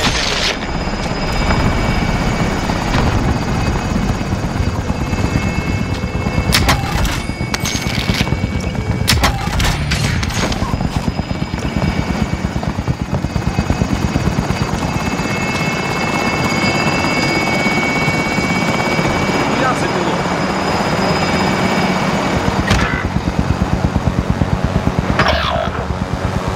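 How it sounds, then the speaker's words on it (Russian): A helicopter in the Call of Duty Warzone: Pacific video game thunders close and loud for the whole stretch, its rotor chop steady, with bursts of gunfire mixed in. "Вертолет на месте."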